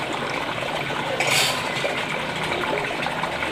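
Water swirling and gushing around the drain tube of a budget aquaponics grow bed, a 25 to 32 millimetre pipe, with a steady close trickle and brief louder splashing, no talk.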